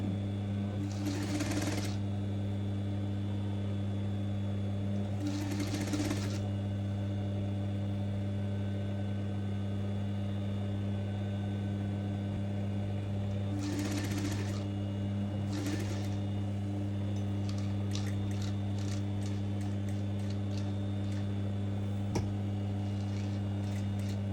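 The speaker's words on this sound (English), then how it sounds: "I'm sewing the pocket outer edge first" A sewing machine stitches the outer edge of a dress shirt pocket in short separate bursts against a steady mains hum, with light ticking and handling sounds between runs.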